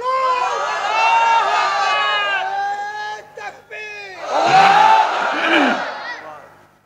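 A large crowd at a religious sermon gathering in Bangladesh shouts takbir in loud unison, a sustained chant that breaks off briefly and then swells again into a strong, ragged roar of many voices.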